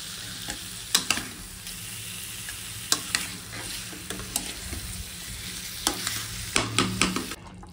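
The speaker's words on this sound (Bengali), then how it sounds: "কড়াইতে চিকেন বসিয়ে দিয়েছি, অনেকক্ষণ নাড়িয়েওছি" Chicken frying in a kadai, stirred with intermittent scraping and clinks over a continuous close sizzle, with sharper stirring knocks toward the end.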